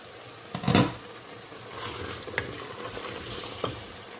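Dried fish stirred with potatoes in a frying pan, a few scraping stirs, the first loudest, over a soft steady sizzle up close.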